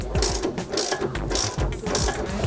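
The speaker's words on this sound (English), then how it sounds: "I'm gonna get a swivel socket. Same way I accessed it earlier. And tighten the rear bolt" A ratchet fitted with a swivel socket clicks in quick repeated strokes while tightening the rear shock bolt on a Honda S2000, close and fairly quiet, several short bursts of pawl ticking.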